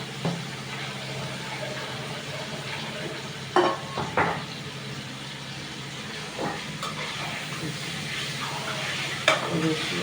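Washed fenugreek leaves going onto partly cooked potatoes in a Sindhi methi aloo pan, with steady frying sizzle and a few sharp stirring scrapes and clacks of a spoon against the pan, close and moderately loud.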